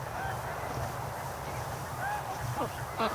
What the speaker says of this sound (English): But you can hear the ducks playing